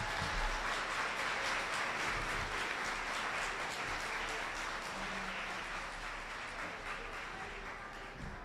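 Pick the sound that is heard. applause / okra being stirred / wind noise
applause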